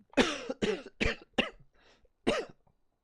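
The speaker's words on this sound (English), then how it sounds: "just coughed all over me" A run of five or six sharp, harsh coughs from one person close by, coming in quick bursts with a brief pause before a final cough, with no talking.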